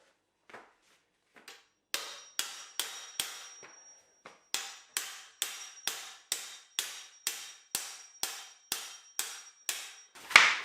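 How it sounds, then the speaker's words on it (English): Hammer blows on a stuck part of a retro mountain bike being converted to a gravel bike. A few scattered light taps lead into a steady run of loud, ringing metallic strikes, roughly two per second, close by with no talk. "Let's try a hammer."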